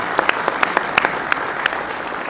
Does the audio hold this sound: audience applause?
yes